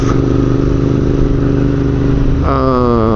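A Royal Enfield INT650 motorcycle cruises in sixth gear on a cold road toward Poznań, its engine drone loud and steady with wind rush, shifting pitch near the end.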